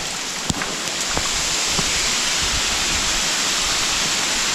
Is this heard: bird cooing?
no